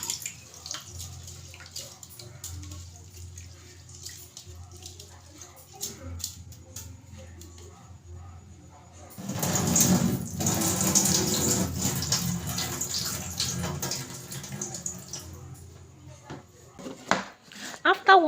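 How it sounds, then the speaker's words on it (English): Half a cup of rice is washed in clean water, with running water and sloshing that grows louder midway, plus light clinks from the bowl. "Make sure to wash it thoroughly with clean water."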